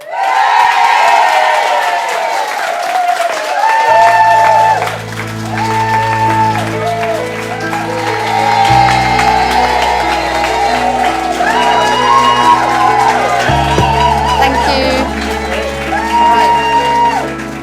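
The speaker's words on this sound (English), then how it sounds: "They're all cheering and clapping" Audience at the first hair, fashion and beauty show at a holiday camp in Benidorm cheers, whoops and claps loudly throughout, with live music playing under the crowd noise.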